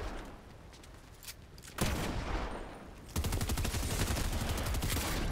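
Rapid Fortnite gunfire rattles in bursts. Quieter scattered shots come first, then a louder sustained volley runs to the end.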